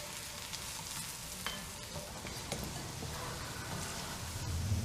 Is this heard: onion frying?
yes